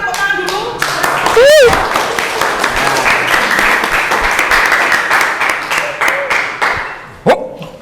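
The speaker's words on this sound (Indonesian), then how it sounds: "Berikan tepuk tangan dulu." A classroom group claps for several seconds in loud, uneven applause, with a rising squeaky chirp and voices mixed in, then fades to a few scattered claps.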